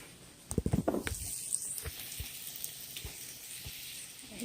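Ramps and turnips hiss and sizzle in a frying pan while a utensil scrapes and stirs them, a cluster of sharp clattering knocks early on, then a steady close crackle with occasional clicks.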